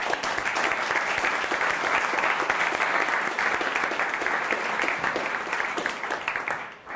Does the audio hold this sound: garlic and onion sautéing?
no